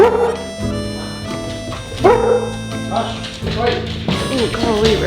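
Dog yips, whimpers and short barks come from a small dog being greeted indoors, in bursts with a steady background hum under them. People talk over the sounds throughout.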